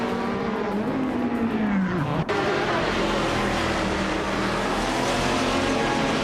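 LMP2 prototype race cars, including a 2011 Oreca 03R, race in a video game. A loud engine whine rises and falls as gears shift, with more engines droning behind it.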